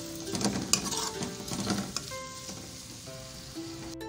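Two medium onions fry in a pot toward light brown for a beef yakhni pulao, giving a soft, close sizzle with a few scraping stirs and light clinks, fairly quiet.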